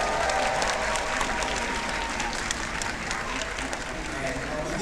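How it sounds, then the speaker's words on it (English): Audience at a Q&A with Bandit and Chili bursts into loud, dense applause, sustained and close throughout, with crowd voices mixed in. "Give yourself a round of applause."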